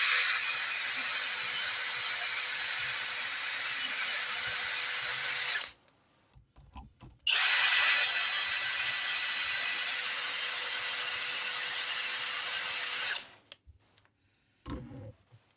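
Chainsaw chain being sharpened by hand with a file, a steady rasping scrape running for several seconds, stopping, then resuming for another long stretch before a short pause and a brief final stroke.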